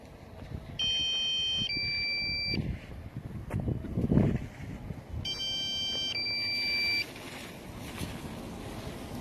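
Faint wind and outdoor rumble in Marlboro, New Jersey, with two bursts of high, warbling low-battery beeps from a flying drone a few seconds apart, fairly quiet and some distance off.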